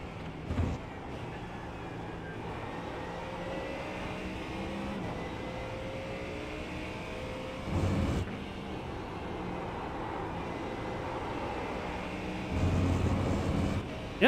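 A GT3 race car lapping Circuit de Barcelona in a racing game, its engine a steady droning whine with rising tones through gears, fairly quiet, with a few brief louder bumps along the way.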